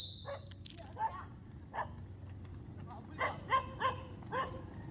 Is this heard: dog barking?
yes